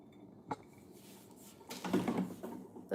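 Brewed coffee is poured from a pot into a cup at home, a soft clatter first, then a steady close pour filling the last second and a half.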